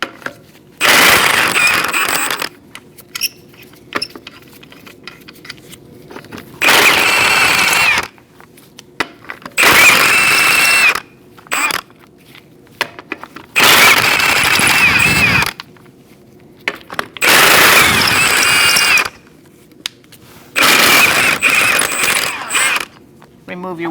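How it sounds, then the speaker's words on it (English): An impact wrench with a 19mm socket removes wheel lug nuts on a 2004-2012 Chevrolet Colorado: six loud, close, rattling bursts of about two seconds each, with clicks and brief handling noises between them. "Using a 19mm socket, we're going to remove our wheel."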